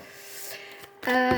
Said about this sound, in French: j'ai mon imprimante qui se met en route